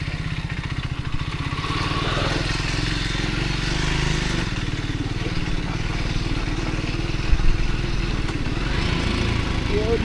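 Motorcycle engine puttering steadily while riding an off-road trail up toward Lakhuri, with a rhythmic chugging drone, occasional clatter and a brief louder knock near the end.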